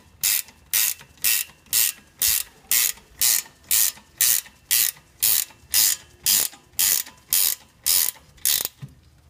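A ratchet wrench tightens a bolt on the front brake of a 1996 Honda CR-V, sixteen evenly spaced, loud, close clicking ratchet bursts in a steady rhythm, then a short pause at the end.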